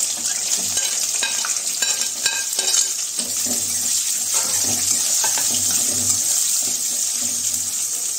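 Onions fry for a chicken curry in a pan, giving a continuous loud sizzle with occasional stirring scrapes. The steady hiss has a watery, tap-like quality.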